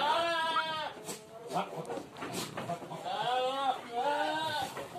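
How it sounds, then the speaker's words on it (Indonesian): Goats at a goat farm bleat in several drawn-out, wavering calls that overlap one another, loud and close, with a few quieter bleats and farm noise in between. "di sana masih banyak sekali tuh kambingnya"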